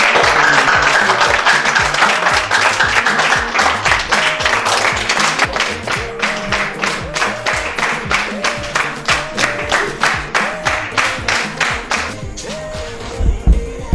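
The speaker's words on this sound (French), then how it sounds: "je demanderai que nous l'applaudissions" An audience applauds loudly and continuously at a gathering, the dense clapping thinning into steady rhythmic unison claps toward the end.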